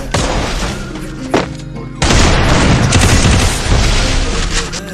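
Loud booming gunfire from a Desert Eagle pistol in a mobile shooter match, with a sharp shot near the start and a dense burst of blasts from about two seconds on, heavy and close.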